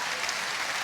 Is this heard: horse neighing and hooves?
no